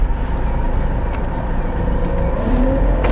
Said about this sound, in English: That steering is making a right racket.